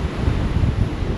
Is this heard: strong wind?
yes